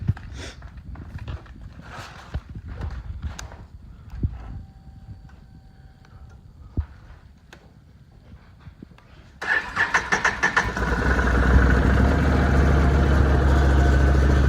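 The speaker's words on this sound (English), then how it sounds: "we will do a before and after starting of the stock exhaust" Can-Am Renegade XMR 1000 ATV engine with stock exhaust cranks with a few clicks and sputters, then catches and settles into a loud, close, steady idle.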